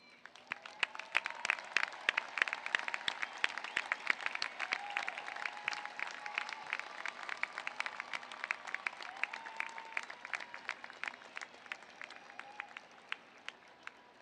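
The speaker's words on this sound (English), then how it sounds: "I ask those graduating with academic and other special honors to please rise if you are able and receive our applause." Commencement audience at a CSUN engineering and computer science ceremony applauding honors graduates as they stand, sustained crowd clapping of many hands, fairly distant and even, continuing for about fourteen seconds before thinning out.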